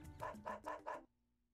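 A dog in the video game Dog's Life barks four times in a quick, even rhythm, each bark loud and close, and then the sound drops to near silence.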